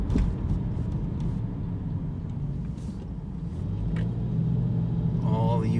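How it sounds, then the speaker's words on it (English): Steady Manhattan street traffic with cabs on the Upper West Side near 79th Street: a dense, continuous rumble of nearby car and bus engines that swells toward the end, with brief higher engine tones late in the clip. "All the usual traffic games and cabs going on."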